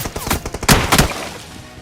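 Rapid bursts of shotgun fire in the BGMI mobile battle game, several loud close shots in quick succession with a brief pause before a final cluster, no talking.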